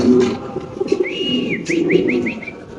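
Fancy pigeons at a large farm coo in low, soft phrases, while a sharper whistling bird call rises over them in a short run of repeated notes near the end.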